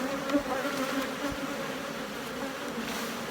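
Agitated honey bees buzz around an opened hive, a dense, continuous close-up hum with a few louder passes near the microphone and no talking.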